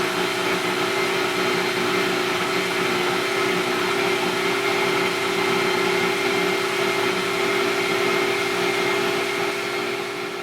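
A blender pureeing onion and potatoes for potato pancakes, running as a loud, steady motor whir with a constant droning hum and no pauses from start to finish.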